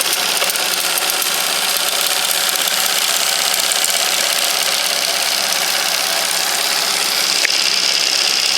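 A model steam launch engine plant runs on a bench test with its feed pump working, giving a steady mechanical churning and hiss that holds even and fairly loud throughout, with no voices.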